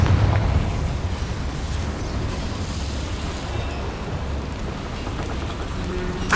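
A Confringo blasting-spell explosion goes off in Hogwarts Legacy inside a small mine: a burst followed by a sustained rumbling, crackling roar, loud at first and then a steady noisy wash.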